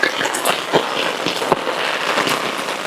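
Firecrackers pop and crackle in scattered sharp bursts at a distance, set against a constant hissing wash like falling rain.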